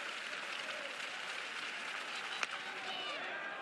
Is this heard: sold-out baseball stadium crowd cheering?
yes